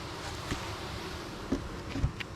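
Honey bees hum around a late-swarming hive outdoors, a low continuous drone with a few louder passes close by.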